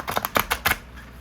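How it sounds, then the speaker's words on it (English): A deck of playing cards is shuffled in a humid room, giving several quick papery riffling bursts close by, followed by a quiet tail with no talking. "I'm having trouble shuffling today"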